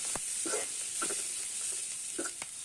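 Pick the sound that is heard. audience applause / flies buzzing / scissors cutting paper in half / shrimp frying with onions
shrimp frying with onions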